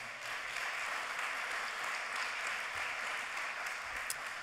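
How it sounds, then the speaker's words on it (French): Audience at the closing of a congress applauds, a dense, distant, even wash of clapping that holds steady for the whole stretch without standing out, quiet overall. "On peut les remercier aussi très vivement par nos applaudissements."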